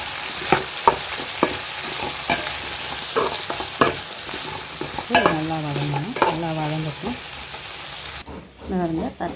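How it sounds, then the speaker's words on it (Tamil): Okra sautéing in a pan for a tamarind curry, loud close sizzling with frequent scraping and clacking of a spatula as it is stirred, a brief squeaky tonal scrape near the end. "வெண்டிக்காயை சேர்த்து நல்லா வதக்கிட்டுக்கலாம்"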